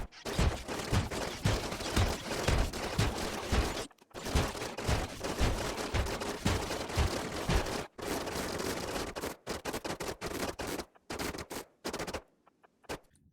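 Rapid video-game gunfire bursts from a Rimworld battle, dense machine-gun-like volleys running almost continuously, then breaking into shorter separate shots with brief silences toward the end.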